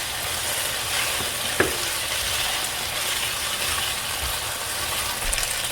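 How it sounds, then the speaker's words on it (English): Chilli chicken with garlic frying in plenty of hot spattering oil, giving a continuous loud sizzle close by, with a brief scrape of a utensil partway through. "There's a lot of oil flying around, so be careful about that."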